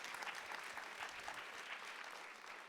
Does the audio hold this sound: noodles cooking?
no